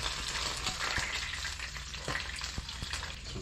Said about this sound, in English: So I got the olive oil going. I'm going to add some balsamic. I'm going to add some mango juice.